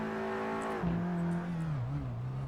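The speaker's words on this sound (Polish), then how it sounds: "Posłuchajmy chwilę pięknego dwulitrowego silnika generującego 310 koni." A two-litre, 310 hp Audi S3 in the racing game Assetto Corsa, its engine note dropping through gear changes and shifting pitch as it drives, moderately loud and alone.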